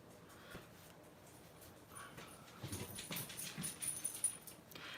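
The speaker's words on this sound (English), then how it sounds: "I've got my dogs coming in here for dog treats" Soft pattering of several dogs' feet coming in for treats, light quick steps growing busier and closer over a few seconds, with faint dog whimpers.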